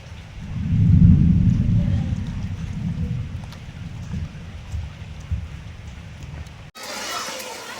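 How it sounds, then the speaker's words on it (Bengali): Heavy rain falls steadily while a deep roll of thunder swells early, then slowly rumbles away, loud and close, until an abrupt cut near the end. "আজকে তো প্রচুর বৃষ্টি হচ্ছে"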